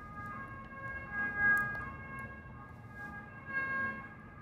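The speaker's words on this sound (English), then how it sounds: "The ambulance is on the way." An ambulance siren wails in a video game set in Austria, a steady two-tone electronic call at moderate level, rising and swelling slightly in loudness twice, with no speech over it.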